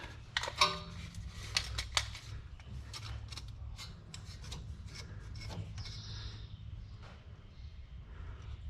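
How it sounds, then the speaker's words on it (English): A spanner wrench loosens the threaded coilover collar on a Lexus IS300: a few sharp metallic clicks early on, then faint scraping and rubbing over a low steady background hum. "Take our spanner wrench, loosen this guy up, take it up about an inch."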